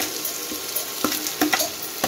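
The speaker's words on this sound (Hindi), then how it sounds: "मैं इसको फाइनली तेल में फ्राई कर रहा हूँ कि भूरे हो जाते हैं" Mushrooms frying in hot oil until browned give a steady bubbling sizzle, with light stirring clicks and scrapes breaking through at irregular moments, close by and with no talk.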